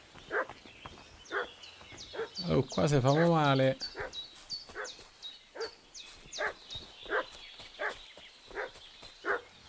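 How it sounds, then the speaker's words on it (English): A dog barks repeatedly in Kingdom Come Deliverance 2, a steady run of short yaps at moderate distance, with people talking over it and a loud swooping in-game voice line in the middle. "What's that dog making such a fuss about?"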